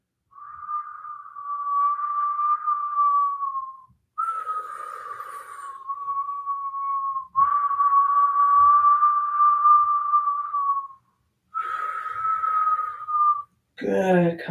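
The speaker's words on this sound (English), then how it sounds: "Inhaling through a puckered mouth, making a whistling sound." Long steady whistling breaths drawn through pursed lips, several in a row with short gaps, close and fairly loud.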